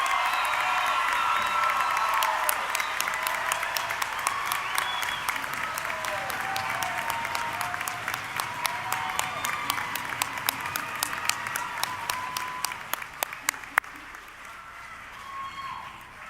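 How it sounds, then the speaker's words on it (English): A large crowd at a college commencement ceremony applauds its graduates, a broad sustained wash of clapping with a few whoops early on, gradually thinning to scattered individual claps near the end. "Let's give another round of applause for our graduates."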